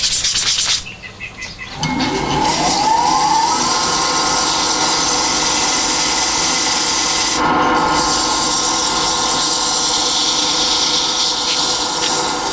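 Sandpaper rubs against spinning turned wood on a Harbor Freight lathe, a steady, close, continuous scratchy hiss over the hum of the motor, with a brief dip near the start before the sanding resumes evenly.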